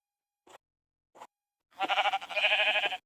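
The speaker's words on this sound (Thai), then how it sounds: "มันคือแกะนะครับ" A sheep in the video game Minecraft gives one wavering, nasal bleat lasting over a second, preceded by two short, quiet clicks.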